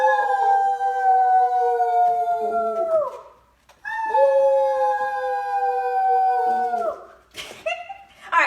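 Wolf pups howl in two long, sustained harmonic calls, each sliding downward and trailing off, with a short gap between them and some brief rustling at the end.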